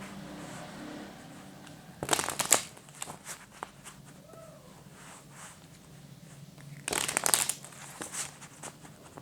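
Tarot cards shuffled in two quick riffling bursts, each about half a second long and a few seconds apart, with quieter handling rustles and faint room noise between them.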